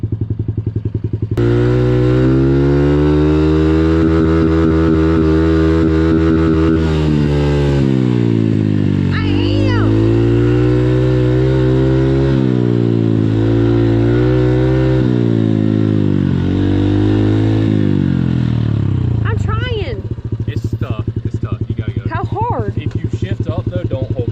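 A dirt bike engine revs loudly up close while being ridden, its pitch rising and falling across several gear shifts, with voices talking over the engine noise.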